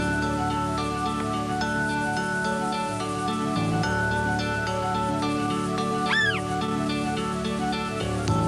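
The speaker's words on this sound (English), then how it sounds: "The mother hears her kitten's cries for help and comes to the rescue." A kitten cries out in short, high mewing calls amid a busy wild setting with music and ambient sound, the cries fairly faint and brief.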